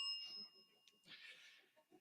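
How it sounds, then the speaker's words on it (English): A timer bell at a school-district candidates forum rings with a clear, sustained metallic tone that fades, followed by a brighter second strike, fairly faint in a quiet hall with soft murmurs. "when time expires, you hear the dreaded bell"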